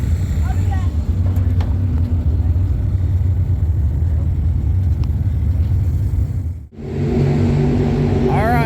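A race car engine in a dirt-track setting roars loudly and continuously near at hand, dropping out briefly near the end before surging back, with people talking over the drone.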